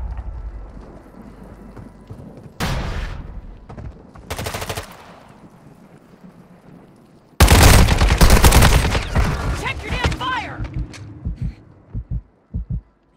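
Bursts of automatic gunfire in the mobile battle royale Call of Duty Warzone Mobile, a few short volleys early, then a loud sustained firefight with rapid shots and explosions, tapering to scattered single shots.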